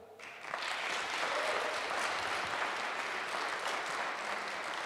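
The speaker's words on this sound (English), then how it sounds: "Let's give another round of applause for all the companies in the 500 Georgia" Audience applause at a startup demo day in Georgia, a dense, steady clapping that swells in after half a second and carries on evenly at close range with no voices over it.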